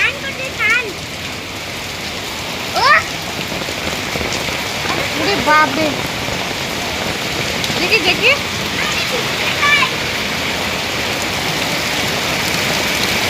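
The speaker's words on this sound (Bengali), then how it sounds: "আমাদের এখানে দেখো কিরকম বৃষ্টি হচ্ছে, দেখো জলে জল।" Heavy rain pours down in a steady, close, dense hiss that never lets up, while a few short voices exclaim over it.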